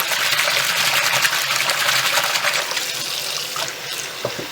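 Tap water runs steadily into a basin being filled for washing yarn, a continuous close gushing splash that eases slightly near the end.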